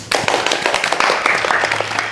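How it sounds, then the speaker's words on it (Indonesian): Applause for classmates at a student gathering of SMAN 1 Gambiran in Banyuwangi, with a busy wash of claps, a few louder slaps standing out, and chatter mixed underneath throughout. "Tepuk tangan buat teman-teman."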